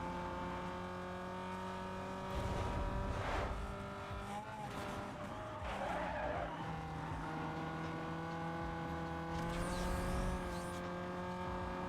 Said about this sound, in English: this car accelerates pretty fast, so he will overtake me here again